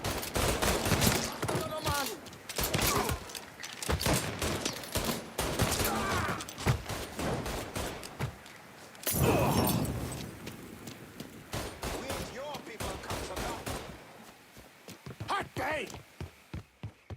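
Gunfire in the video game Mafia III cracks out in irregular volleys and single shots, loud and near, with voices talking over the shooting.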